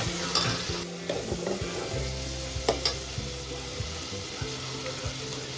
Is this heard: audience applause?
no